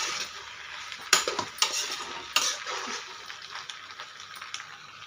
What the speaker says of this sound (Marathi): आणि आता मीडियम गॅसवरती 2 मिनिटं छान आपण आता वाफवून घेऊया